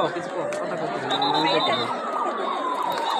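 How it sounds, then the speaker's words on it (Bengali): A man on a crowded street plays an ambulance siren sound, a wavering electronic wail sweeping up and down continuously over steady crowd chatter. "এই যে এই লোকটা অ্যাম্বুলেন্সের সাইরেন বাজাচ্ছে"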